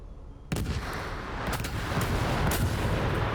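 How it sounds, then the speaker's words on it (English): Explosions and gunfire from a combat sequence in Shadow of the Tomb Raider start abruptly after a quiet half second, then continue as a dense, rumbling barrage with repeated sharp blasts over steady low roar, no talk. "I'm killing you with explosions."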